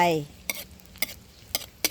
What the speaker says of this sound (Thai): พอน้ำมันร้อนแล้วก็ใส่ พริกกระเทียม ลงไป